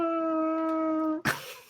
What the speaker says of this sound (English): That's like a whale sound effect.